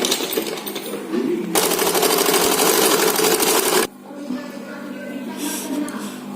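Sewing machine stitching blouse lining, running in a loud, fast, even burst of close stitching for a couple of seconds, with someone talking before and after over softer machine noise.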